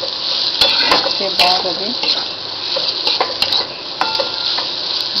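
Ginger frying in oil in a pan for mango ginger thokku, with steady sizzling, scraping stirs and a few utensil clinks on the pan, while someone speaks briefly over it.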